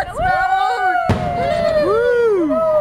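A single firework bursts with a sharp, loud bang during a fireworks celebration in Jerusalem, as excited people talk and exclaim around it at close range.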